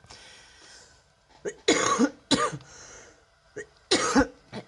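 Several harsh coughs burst out close by in a rough cluster, with short quiet gaps between them.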